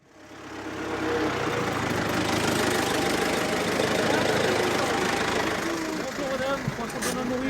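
A vehicle engine idles steadily at a gendarmerie roadside check, a loud, close mechanical rumble starting up and running continuously, with some faint voices in the background.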